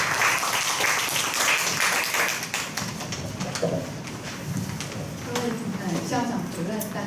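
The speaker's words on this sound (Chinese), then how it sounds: "热烈掌声鼓励。" An audience claps warmly at a teachers' international education training workshop in Taiwan. The applause is dense and sustained at first, then thins out, and voices can be heard underneath.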